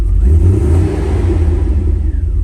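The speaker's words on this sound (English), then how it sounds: "when I give it a little throttle, it'll hesitate, almost backfire or stall" The engine of a 1991 Mercedes 500SL, fitted with a cleaned cap and rotor and a new cam sensor, rumbles loud and close with a low, uneven drone and a slight dip under a little throttle, with no voices.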